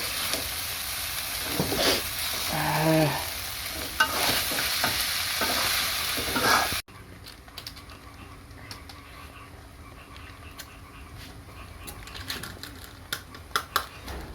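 Packaged noodles with masala fry in a pan while being stirred: clattering, scraping stirs over a loud sizzle at first, then a quieter sizzle with scattered light taps and clicks.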